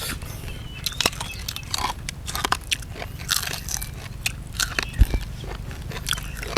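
Crispy grilled pork intestine eaten close up: repeated loud, sharp crunchy bites and chewing crackles in an irregular rhythm, with no talking.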